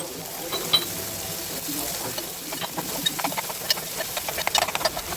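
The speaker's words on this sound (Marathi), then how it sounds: "त्यानंतर त्यामध्ये कापलेला कांदा मिक्स करून घेऊया. कांदा गोल्डन ब्राऊन होईपर्यंत आपण ते मिक्स करूया." Chopped onion stirred in hot oil with a pinch of asafoetida for Maharashtrian taro leaf curry, soft steady sizzling with scattered scraping and tapping of a spoon in the pan, growing busier toward the end.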